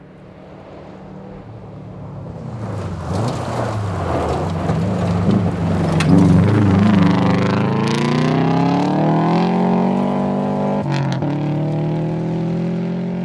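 Will Hudson's rally car approaches on the final stage of the 2012 Olympus Rally, its engine note loud and close, climbing and revving steadily as it draws in, with a brief sharp shift near the end.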